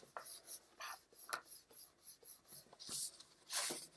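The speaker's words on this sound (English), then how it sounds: "I am doing my cursive writing until I get sick of doing it that way." A pen writes cursive across a manila folder, giving a run of close, soft scratchy strokes in an uneven rhythm, a little louder near the end, with no talking.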